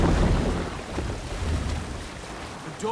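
Viking longship under sail crossing open sea waves in Assassin's Creed Valhalla, a steady broadband wash of water and wind rushing continuously close by, with no voices.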